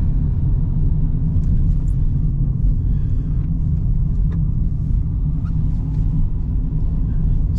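Car climbing a Sierra Nevada mountain road at about 2500 m altitude: steady, loud engine and road rumble heard from inside, continuous with no speech.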